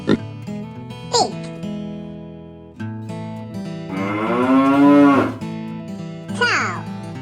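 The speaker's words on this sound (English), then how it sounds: "Cow." Cow mooing over a light children's background tune, a long drawn-out low bellow swelling loudly in the middle with shorter calls before and after.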